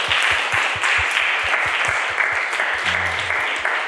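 A church congregation at a Sunday worship service applauds to welcome a visitor, a lively, steady burst of many hands clapping close by, with a brief voice murmuring near the end.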